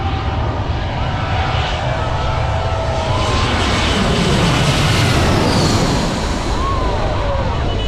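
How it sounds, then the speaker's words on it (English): A large jet airliner passes low over Maho Beach on its landing approach, a loud, close, sustained engine roar with a shifting whine that sweeps overhead, beach crowd noise faintly mixed beneath. "We get our first jet, and she's pretty big."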